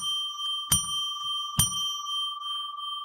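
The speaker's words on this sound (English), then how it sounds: "I'll ring a bell 3 times to declare sacred space." Hand bell struck twice, each a clear close ring with a long sustained tone that lingers and overlaps the next strike in a quiet room.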